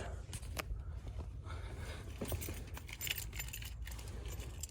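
A set of keys jangles and clinks near the shift gate inside a worn, ratty pickup truck cab, giving a few scattered metallic rattles close by and fairly quiet.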